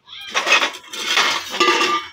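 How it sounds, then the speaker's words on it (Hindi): Pots, pans and metal dishes being washed by hand clatter and clink close by in three busy bursts, with scraping and knocking between them. "मैं धो रही है बर्तन"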